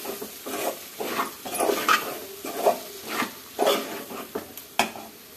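Food fries in a pan with a soft, steady sizzle while a utensil stirs and scrapes against the metal in irregular bursts of clinks and scrapes, close by.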